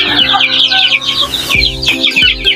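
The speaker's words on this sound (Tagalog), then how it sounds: "Marami ding sisiw dito mga idol, pero medyo malaki na." Chickens and half-grown chicks cluck and squawk continuously in a free-range farm area, a loud, dense flock chorus close by with no talking.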